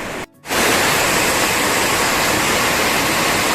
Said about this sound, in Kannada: ಸರಾವತಿ ನೀರು ಬೀಳ್ತದೆ ಹಾಂ ಇದು ಮಳೆ ಅಲ್ವೇ